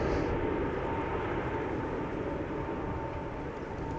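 A KLM Boeing 787-10 Dreamliner at Schiphol's Polderbaan makes a steady, even roar with a faint high whine on top, heard at a moderate distance.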